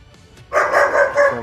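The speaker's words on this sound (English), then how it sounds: "Well, I heard a doggy barking." A dog barks close by, a quick run of three or four yapping barks after a brief quiet moment.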